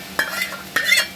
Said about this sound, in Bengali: এইবারে চিকেনটা ওর মধ্যে দিয়ে দিচ্ছে।